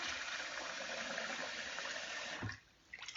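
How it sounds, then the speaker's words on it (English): Water is poured into a pot of potato leek soup, a steady gushing splash that runs continuously and then stops abruptly, followed by a brief clunk and quiet. "I'm going to add just a little bit more water"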